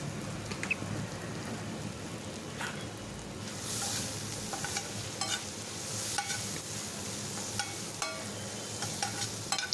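Chopped tomato, onion and garlic with turmeric sautéing in a pan over medium flame, a soft steady sizzle with occasional stirring scrapes, fairly quiet.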